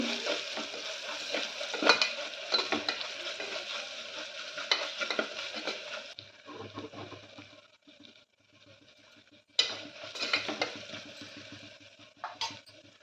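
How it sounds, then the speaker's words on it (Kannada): Ginger-garlic paste sizzles and spits in a hot pan for tomato rice, with scraping stirs and a dip to quieter frying midway before the sizzle flares up loudly again. "ಇವು ಚಂದ ಹಸಿ ವಾಸನೆ ಹೋಗೋವರೆಗೂ ಫ್ರೈ ಮಾಡ್ಕೋಬೇಕ್ರಿ ಅಲ್ಲ ಉಳ್ಳಾಗಡ್ಡಿ ಪೇಸ್ಟು"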